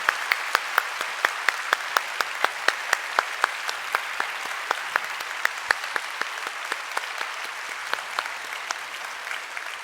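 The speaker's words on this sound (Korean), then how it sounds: "다시 한번 우리 박수로 감사드립니다" Steady applause from a church congregation runs throughout, a dense wash of many hands punctuated by sharp, regular individual claps.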